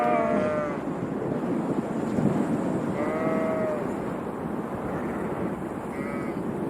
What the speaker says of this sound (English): I actually believe now that the sheep are making that noise.